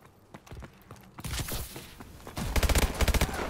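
Rapid bursts of AMR 9 hip fire in a first-person shooter video game, loud close gunshot volleys arriving in quick clusters over ambient battle noise, with a quieter stretch of scattered shots first.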